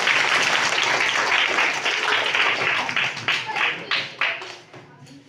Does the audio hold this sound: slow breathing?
no